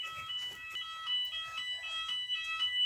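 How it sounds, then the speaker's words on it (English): A fire alarm sounds inside a plane museum, its high electronic tone beeping repeatedly in a steady pulsing pattern, heard at moderate distance with faint footsteps and movement. "Oh my god, it's the fire alarm."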